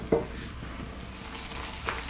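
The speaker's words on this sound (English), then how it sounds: "just as our onions start to cook down" Onions for a Moroccan lamb and chickpea tagine sizzle softly in a pan, a brief close crackle with a couple of stirring knocks.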